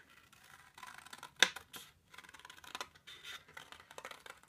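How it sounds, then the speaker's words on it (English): Scissors cutting a paper card banner by hand for a Valentine card, close and quiet snipping with one sharper cut standing out among soft paper rustles. "I'm going to hand cut the banner here"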